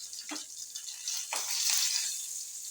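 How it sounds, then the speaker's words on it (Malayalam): Curry leaves drop into hot oil with well-browned onions, giving two quick bursts of crackling sizzle followed by a continuous soft frying hiss, close and fairly quiet, with no talking. "ഉള്ളി നന്നായി മൂത്ത് വന്നിട്ട് അതിന് ശേഷം കറിവേപ്പില ഇട്ട് കൊടുക്കണം"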